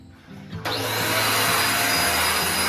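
A vacuum cleaner switches on at home for floor cleaning, jumping from a low hum to a steady, loud, close whooshing whine that holds without pause.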